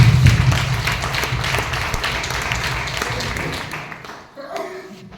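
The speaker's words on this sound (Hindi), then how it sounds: "एक बार डेजो के लिए जोरदार ताली होनी" An indoor audience at a business gathering claps together, a dense patter of many hands that swells early, slowly fades and breaks off near the end, with a brief voice following.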